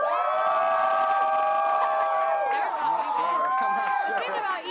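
A school sports-show audience cheers and shouts to vote for Josh, a steady, dense crowd roar with children's whoops and voices that holds for several seconds before ragged individual yells rise near the end.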